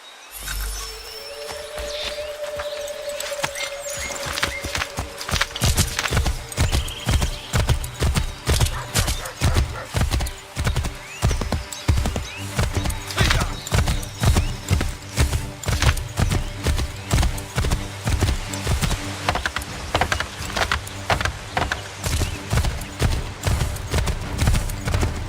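A horse in Assassin's Creed III gallops in a rapid, steady clip-clop of hooves that starts after a brief pause and runs loud and close throughout, with a whinny early on.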